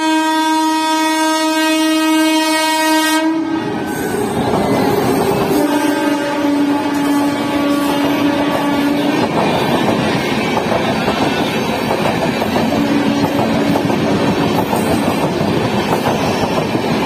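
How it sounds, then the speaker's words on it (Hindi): A Howrah Rajdhani express races through Tundla Junction without stopping, a long loud horn blast opening before the rumbling roar of passing coaches fills the rest, with steady wheel clatter and brief horn tones again near the end. "दोस्तों ये है हावड़ा राजधानी।"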